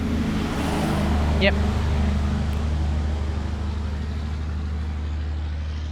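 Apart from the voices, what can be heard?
big water truck passing on the road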